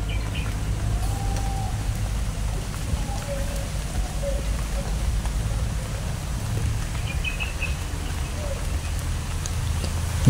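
Steady rain pours down outdoors at night, a dense continuous hiss on surfaces with faint bird or insect calls and a low rumble underneath, lasting throughout.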